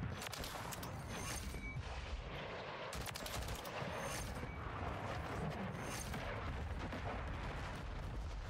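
FAMAS rifle in Call of Duty MW3 firing in rapid bursts, loud and dense, with continuous clattering shots and battle noise and no gaps.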